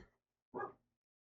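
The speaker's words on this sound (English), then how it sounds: "The dog decided he was going to start barking" A single short dog bark, fairly close, following a brief fainter sound, then silence.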